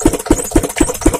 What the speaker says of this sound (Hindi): ये 8 HP का फील्ड मार्शल का इंजन है पूरा